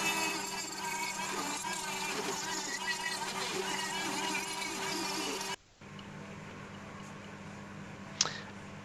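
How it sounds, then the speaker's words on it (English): A small rotary tool with sanding bits whirs steadily with a high-pitched grinding hum on a turned wooden goblet for several seconds, then cuts out, leaving quiet room noise and a brief click. "Then going in with some small sanding bits."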